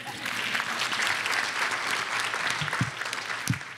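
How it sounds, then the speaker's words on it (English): At an awards ceremony for excellence in Jewish education, an audience claps warmly and steadily, the sustained applause filling the room, with a few louder thumps near the microphone as it tapers. "So I think she gets a round of applause as well."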